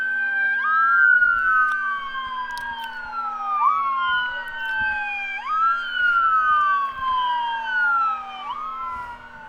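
An ambulance siren from a fire station beside a baseball field wails in steady rising and falling sweeps, fairly loud and continuous over faint ballpark background noise.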